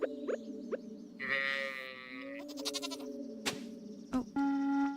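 A cow in the farming video game Stardew Valley gives several short, clean, tonal calls, spaced unevenly with brief gaps, close and alone without any talking.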